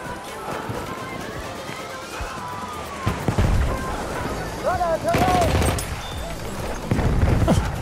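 Mortar fire in a Battlefield 1 battle: heavy booms and scattered gunfire rumble through the mix while players talk over the top of the explosions.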